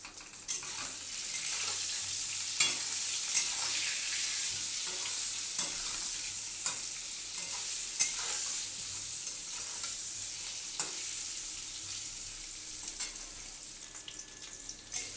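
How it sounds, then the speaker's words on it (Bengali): Brinjal pieces frying in a pan with turmeric and salt, for a Bengali hilsa curry with brinjal, give a steady close sizzle, with stirring clatter scattered through it and no talk. "বেগুনগুলো লাল লাল করে ভাজা হয়ে গেছে"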